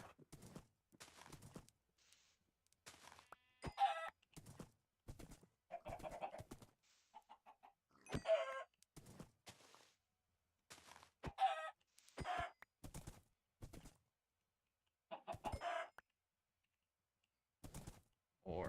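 Chickens clucking in a Minecraft-style hardcore survival game, a string of short, close clucks and squawks spaced out over many seconds with quiet gaps between.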